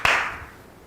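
A single sharp clap rings out close and crisp, then decays quickly into near silence, offered as applause for a producer during a Korean university interview-prep session.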